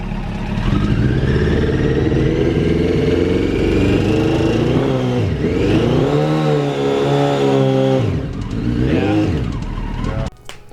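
Beginner motorcycle with an oil leak and a cracked coolant neck, its engine running roughly and unevenly, loud and close with revving rises and dips, then cutting off near the end.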